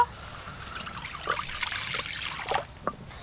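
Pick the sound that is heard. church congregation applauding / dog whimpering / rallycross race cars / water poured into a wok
water poured into a wok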